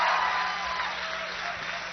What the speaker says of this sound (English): A big round of applause for Virginia and Samuel